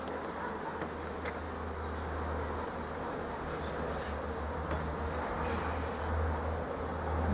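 Honeybees from a colony being split drone around open hive frames, a dense, steady, close-up buzz with individual insects flitting near and away, and no voices.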